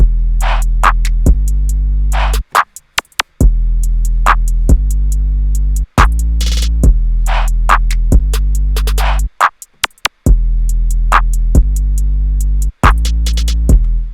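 A loud electronic hip-hop beat loops with deep sustained bass, snappy snares, claps and ticking hi-hats, with brief drop-outs before the pattern returns.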